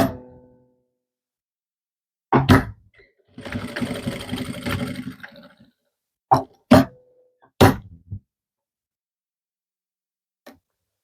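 A sewing machine stitches the corner of a jacket pocket in a short burst of about two seconds of rapid whirring, set among scattered louder knocks and handling clatter with quiet gaps between them.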